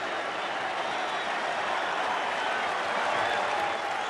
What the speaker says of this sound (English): even the Rangers fans behind the dugout applaud this as Cabrera comes back to the bench